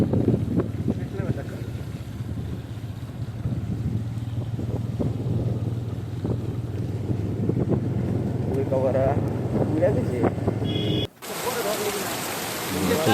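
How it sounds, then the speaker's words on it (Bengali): Heavy rain falls at a roadside near a dargah, a broad steady wash of noise mixed with low wind rumble, loud and continuous until an abrupt cut to a brighter, harsher spray near the end. "আপনারা নিজের চোখে দেখুন কতটা বৃষ্টি পড়ছে।"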